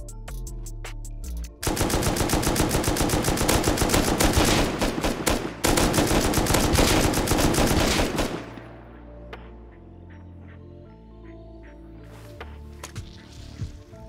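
Loud, rapid automatic gunfire in a modded Martian Rust survival game bursts in sustained volleys, briefly pauses, resumes, then stops and gives way to quieter game ambience with scattered thuds.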